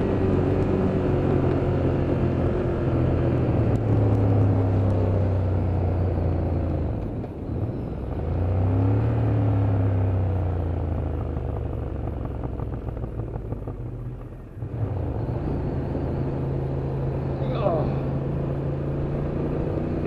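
Ducati Monster 1200 engine rumbling steadily while riding at low revs, a loud, continuous drone with swells in pitch as the throttle changes and a brief dip midway; a voice talks over it at times.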